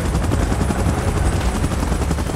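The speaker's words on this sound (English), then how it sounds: "Chopper in position." A helicopter hovers in a Godzilla vs Kong video game mode against Mechagodzilla, its rotor chopping in a rapid, steady pulse that stays loud and close throughout.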